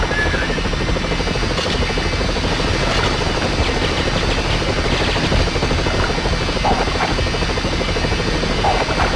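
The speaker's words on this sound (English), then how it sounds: "lure the chopper over the outlet" A helicopter in the PlayStation game 007: The World Is Not Enough roars with a loud, constant rotor chop that holds unbroken throughout, with no voices.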